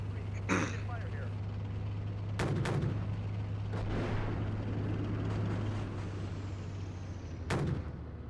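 Tank cannon fire in the Steel Beasts Pro PE combat simulator, a few sharp heavy blasts spread over several seconds with a steady engine drone beneath and radio-style voices talking throughout.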